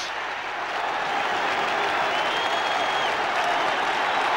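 A football crowd roars and applauds a goal at a 1988-89 FA Cup third-round match, a dense, steady wall of clapping and cheering that stays loud and even throughout, with no clear individual voices.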